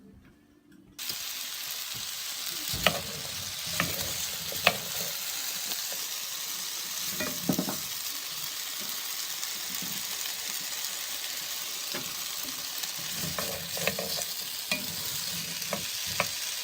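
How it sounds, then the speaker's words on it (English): Red onions are dropped into melted shortening and fry with a sudden, steady, close sizzle. Scattered clinks and stirring scrapes from a utensil fill the rest, with no talking. "So the shortening is now all melted and everything, so now I'm gonna put these in."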